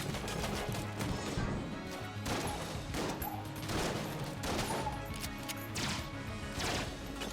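Enter the Gungeon gameplay with laser rifle and Tangler gunfire: dense, continuous rapid shots and impact crashes layered over game music, steady and loud throughout with no talk.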